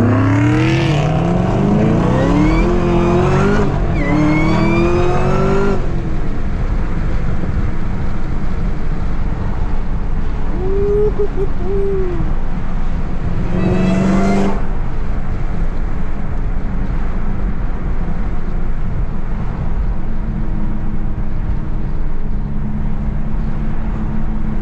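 Camaro ZL1 muscle cars making roughly 1,000 horsepower scream through hard pulls in traffic, engines rising sharply in pitch through the gears, loud and close, then easing into a steady roaring drone.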